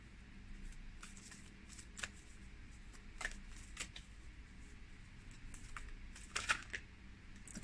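A deck of oracle cards is shuffled and cards are drawn: soft, quiet riffling and light taps with a few sharper flicks near the end, and no talking.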